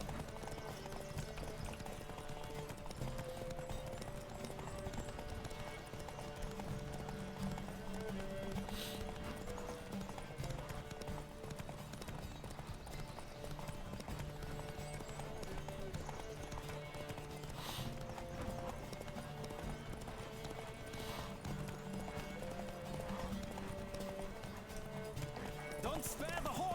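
Hooves of a galloping horse clatter through a race in The Witcher 3, a fast, steady clip-clop under game music and occasional character shouts, fairly quiet overall.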